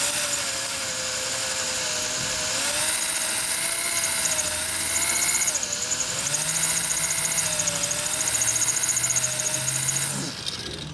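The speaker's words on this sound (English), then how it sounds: "I'm pushing hard. The drill's only so good." An electric drill bores under heavy pressure during a primary chain repair on a 2009 Harley-Davidson FLH touring motorcycle with a 96ci engine, its motor whine rising and dipping in pitch as it loads up and ending abruptly.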